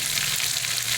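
Turmeric spice paste frying in a hot pan with cumin seeds and bay leaf, giving a steady, dense sizzle that stays loud and even throughout.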